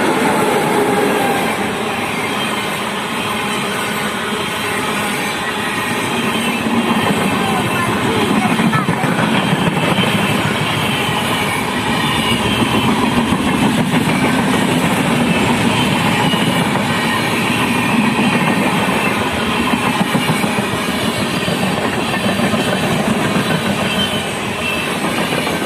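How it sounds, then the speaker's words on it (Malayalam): A train rolls past on the tracks close by, a loud sustained rumble and clatter of wagons that fills the whole stretch, with a voice audible under the noise. "ഇതിൽ കൂടി ഒരു ട്രെയിൻ പോണേ."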